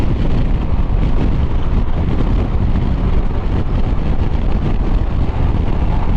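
Constant heavy wind buffeting roars across the microphone of a rider on a KYMCO DTX 360 maxi scooter, a dense low rumble that never lets up for the whole stretch.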